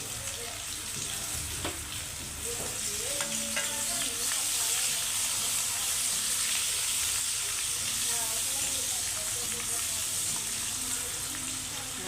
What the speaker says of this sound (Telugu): ఉప్పు వేస్తే మనకి తొందరగా ఉల్లిగడ్డ మగ్గిపోతుంది